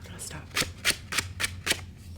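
Thick 250 GSM paper crackles and rustles in five or six sharp, evenly spaced bursts, close up, with a low hum underneath and no talking.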